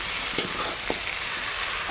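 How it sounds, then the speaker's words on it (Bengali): Raw mango pieces are stirred with melting jaggery in a hot pan for a pickle, giving a steady close sizzle with a couple of brief scraping clicks from the spoon. "বন্ধুরা দেখুন আমের সাথে ভালো করে আমরা গুড়গুলো মিক্স করে নিচ্ছি।"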